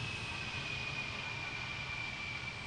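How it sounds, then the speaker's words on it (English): A jet engine in a flight simulator game holds a steady, even roar with a thin high whine running through it, heard close and alone at a low level with no talk. "The engine spooling up and spooling down, and the afterburners come on"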